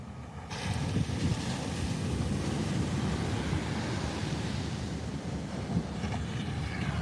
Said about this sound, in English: Like watch how the waves breaks over there and then it goes right down the line.